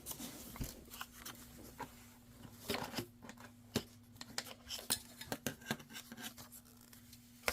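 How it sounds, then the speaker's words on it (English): Scissors cutting packaging for paper crafting, a quiet series of close, irregular snips and crisp rustles spread across several seconds. "I'm going to use the scissors on this one"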